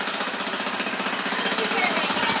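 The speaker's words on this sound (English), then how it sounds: "every time that jackhammer went off" A jackhammer at a zoo rattles in a rapid, continuous pounding rhythm, steady and somewhat distant.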